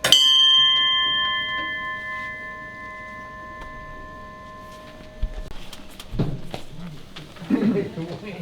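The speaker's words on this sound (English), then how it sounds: "Ring the bell one more time." A single bell struck once at a veterans' submarine base monthly meeting, ringing out clearly with a long, steady decaying tone for about five seconds before room noise and shuffling take over.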